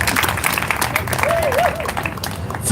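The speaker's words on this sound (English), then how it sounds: "Can we get a round of applause for Dr. Timothy Tyler?" Applause from a crowd, a steady wash of clapping filling the room.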